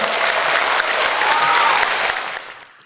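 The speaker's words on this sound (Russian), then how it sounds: "Громче аплодисменты!" A crowd gives loud, sustained applause at an art studio's year-end recital concert, a thick wash of clapping that holds strong for over two seconds, then thins and fades out at the end.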